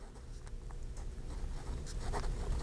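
Gel pen gliding over planner paper, a faint, continuous scratchy writing sound with small stroke accents, close and quiet with no talking.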